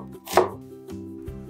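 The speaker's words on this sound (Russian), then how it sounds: "Одну луковицу нарезаю полукольцами." A knife slices through a red onion into half-rings on a board, giving a few close, crisp cuts with quiet pauses between them.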